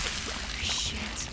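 Licker creature shriek and acid-round bubbling in Resident Evil 2 Remake: a brief, bright hissing screech over a gurgling, pouring fizz, close and short.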